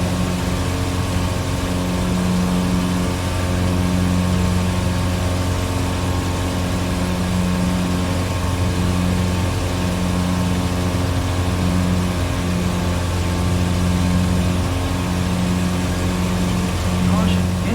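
Aviat Husky light aircraft engine in Microsoft Flight Simulator, a steady, loud droning hum with strong low harmonics for the whole stretch, while speech runs over it.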